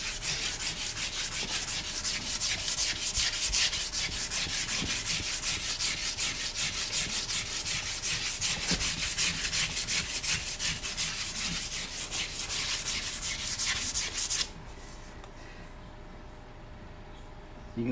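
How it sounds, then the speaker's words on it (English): Steady, loud sanding scrape on a forged horseshoe toe clip, rapid rhythmic rubbing strokes continuing for about fourteen seconds before stopping abruptly, leaving quiet room noise. "gonna get this right here and sand on it."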